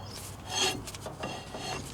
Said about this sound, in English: tighten this spindle nut down with a pair of channel locks as tight as you can by hand while rotating the hub